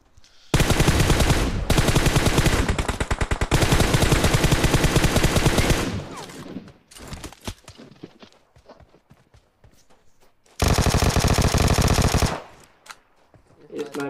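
Automatic gunfire in the video game PUBG: two long, loud, rapid bursts, then a stretch of scattered single shots and quieter sounds, and a final sustained burst.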